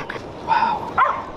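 A dog outdoors gives short yelping, whimpering barks, two bursts about half a second apart with a third starting at the end, fairly close and moderately loud.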